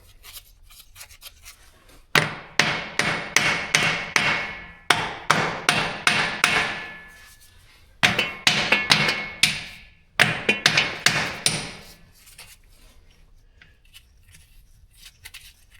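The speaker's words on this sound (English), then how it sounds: "I need to get a hammer and tap all those wheel locks and see if they'll come loose" Ball peen hammer tapping wheel locks on a truck axle during repair, sharp metallic clanks in quick bursts of several blows each, close and loud, separated by short pauses.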